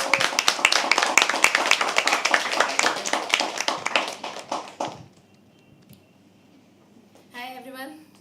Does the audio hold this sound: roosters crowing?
no